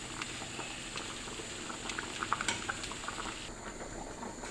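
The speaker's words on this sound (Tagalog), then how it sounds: "Ayan, kumukulo na." Pasta water boils in a pot, a faint, steady bubbling hiss with small pops and patter scattered throughout, no voices.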